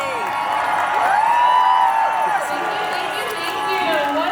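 A crowd at a No Kings rally in Idaho cheers and whoops in a sustained, fairly loud roar, with a voice carrying over it.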